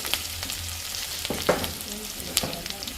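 Dried fish frying in hot oil with a little fennel seed, a steady close sizzle broken by a few sharper spits and stirring clatters.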